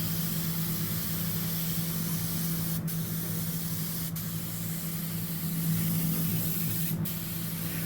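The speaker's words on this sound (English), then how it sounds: "then it's time to shoot some paint" A spray gun shoots epoxy primer onto the body of a 1963 Buick Riviera, a steady, loud hiss that continues unbroken throughout, with a low hum underneath.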